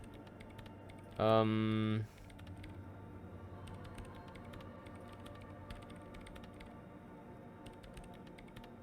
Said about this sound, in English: her hands are a whirl on the keyboard